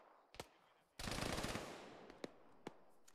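A .50 cal machine gun firing in the Arma military game, a sustained rapid burst of heavy shots after a couple of single reports, followed by scattered distant gunfire, moderately far.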